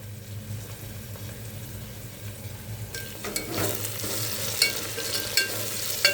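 Tomatoes and kasuri methi frying in a pan for a biryani with arikelu: a steady low sizzle that grows busier and brighter midway, with a few scraping stirs of a spoon near the end.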